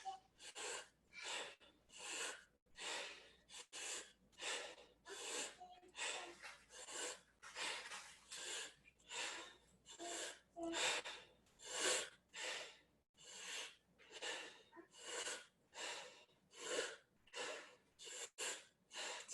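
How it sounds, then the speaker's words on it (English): Rapid, rhythmic forceful breaths during a timed deep breathing exercise, about two dozen sharp rasping inhales and exhales in steady succession, close and fairly loud with no talking. "And now breathing in."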